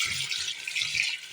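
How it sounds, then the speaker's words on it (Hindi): Water is poured into a pot of fried potatoes and chicken for aloo chicken pulao, making a steady rushing stream with a pulsing low gurgle beneath, close and continuous, with no voices. "अब इसमें शामिल कर देना है पानी।"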